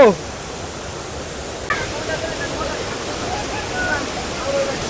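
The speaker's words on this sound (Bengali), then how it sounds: "দেখো এই ওয়াটারফলসের এখানে জলের পরিমাণ কিন্তু মারাত্মক লেভেলে রয়েছে।" A Keonjhar waterfall in the monsoon, swollen with heavy water, giving a broad unbroken roar of rushing water that stays loud and even throughout, with a voice briefly over it.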